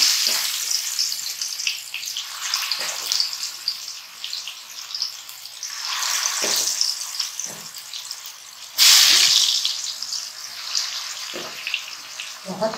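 Marinated chicken for kababi masala hits hot oil with onions in a kadai, giving a loud, steady sizzle with sharper bursts of spitting and crackle as pieces are added and stirred, heard close and without talk.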